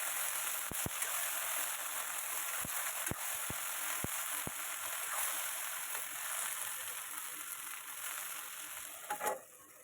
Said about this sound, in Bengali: এই জন্য ভালো করে ঢেঁড়স ভেজে নিতে হবে।